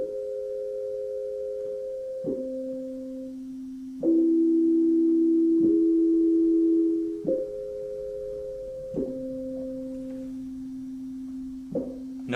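Sustained pure electronic tones sound in pairs of major thirds tuned to equal temperament, each dyad held a second or two before shifting to the next, with brief clicks at the changes and one louder stretch in the middle.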